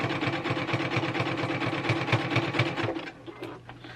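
A domestic sewing machine stitching hexagon quilt pieces butted together, giving a fast, even mechanical chatter of needle strokes that runs close and steady, then stops, leaving a faint hum and a couple of light clicks.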